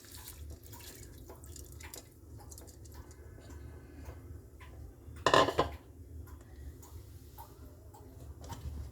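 Washed rice tipped into a cooking pot for mutton biryani, a short loud clattering pour at the middle amid quiet kitchen background noise.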